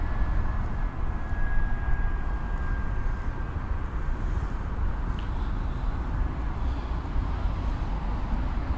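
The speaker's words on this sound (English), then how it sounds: "Over there you got Heathrow Airport, and aeroplanes land on runway" A distant aeroplane approaching to land on a runway at Heathrow Airport, a steady low jet rumble with a thin high whine, continuous and moderately faint across the whole stretch.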